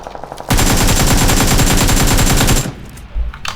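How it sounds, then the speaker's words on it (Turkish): Automatic gunfire in the video game PUBG Lite: a loud, rapid continuous burst lasting about two seconds, followed by quieter scattered sounds. "Aa bak kesin ona sıkıyorlar ha."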